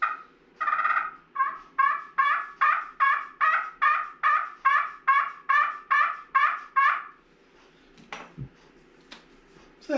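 A homemade wooden turkey call played with a striker gives a steady series of about fifteen close, evenly spaced yelps. A few faint knocks and handling noises follow after the calling stops.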